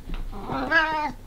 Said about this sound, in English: making a really loud meowing.